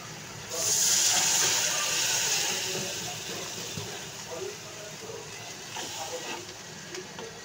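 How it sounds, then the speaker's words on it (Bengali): A sharp hiss and burst of steam as water hits frying onions in a hot pan, fading into gentle bubbling sizzle with faint voices. "পেঁয়াজটা কষানোর জন্য আমি অল্প একটু পানি দিয়ে দিচ্ছি।"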